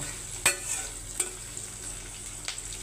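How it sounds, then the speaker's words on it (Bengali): Green chilies and onion fry in a little oil for a hilsa curry with bottle gourd, giving a steady close sizzle with a few sharp stirring scrapes against the pan. "ইলিশ মাছ রান্না করার জন্য এখানে আমি একটু কাঁচামরিচ আর পেঁয়াজ দিয়েছি।"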